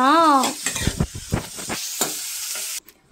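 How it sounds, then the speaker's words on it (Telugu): After a brief vocal sound at the start, onions, chana dal and cumin sizzle loudly in hot oil, with several rhythmic stirring scrapes before the sound cuts off abruptly. "ఉల్లిపాయలు వేసుకుని బాగా వేపుకోండి సిస్టర్స్ ఉల్లిపాయ బాగా వేగాలి కదా"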